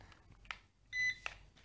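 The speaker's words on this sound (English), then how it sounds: "There was a beep right there." A Maginon QC-70SE drone remote control powers on with a short electronic beep, a brief steady tone followed by a quick chirp, faint and close in a quiet room.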